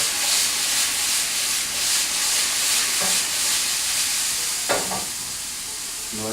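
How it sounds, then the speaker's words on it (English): Chicken with crushed black peppercorns sizzles in a hot pan under a constant close frying hiss, with a couple of brief scraping tosses near the end and no speech. "And you can also crush in some black peppercorns. Proceed to toss that once more."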